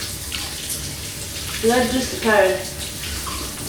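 A shower runs with a steady, close hiss of falling water, and voices talk briefly over the spray.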